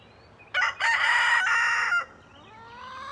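Chickens clucking and a rooster crowing in the background of a backyard beekeeping setting, one loud crow lasting over a second, then quieter fowl sounds.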